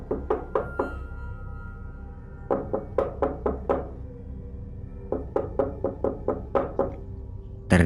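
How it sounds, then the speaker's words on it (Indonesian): Knuckles rap on a door in several quick clusters of three to five knocks, fairly soft and slightly distant, with a low background rumble between the groups. "terdengar suara ketukan pintu"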